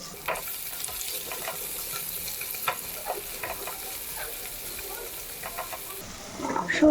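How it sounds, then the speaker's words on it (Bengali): Drumstick stalks, onion and green chillies fry in mustard oil in a pan where fish was just fried, giving a steady close sizzle and hiss with occasional stirring scrapes throughout. "খুব ভালো করে ভেজে নিচ্ছি।"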